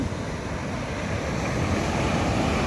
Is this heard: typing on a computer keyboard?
no